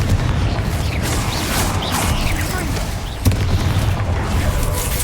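Spell blasts and explosive booms from the Hogwarts Legacy video game crackle through a busy magical fight, with a sharp bang near the middle amid continuous rumbling effects and a voice speaking over it.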